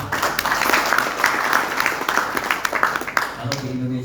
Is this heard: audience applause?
yes